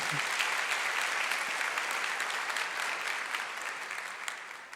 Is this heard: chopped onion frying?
no